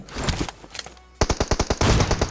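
Rapid automatic gunfire in the mobile battle-royale game PUBG Mobile, a sharp close burst of evenly spaced shots after a brief lull, with denser firing toward the end.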